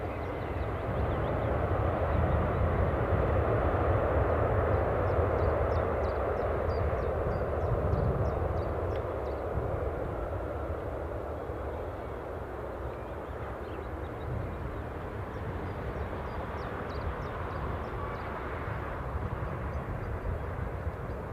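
A delayed incoming flight from Bristol at Newcastle Airport, its aircraft engine a faint, distant rumble that holds steady and gradually softens over a long stretch, with no talk.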